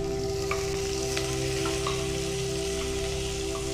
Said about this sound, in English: Yeah, you hear that sizzling? That means that our oil was nice and hot and ready to receive our onions.